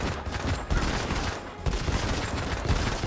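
Rapid gunfire in a Call of Duty Mobile knockoff shooter game, dense bursts of crackling shots rattling continuously, with a brief pause near the middle before the firing resumes.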